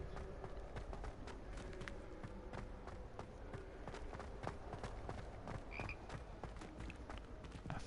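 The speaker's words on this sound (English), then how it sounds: "A frog." A frog croaks in the video game Hogwarts Legacy, its faint calls mixed into dense, busy game ambience and rhythmic footstep-like patter throughout.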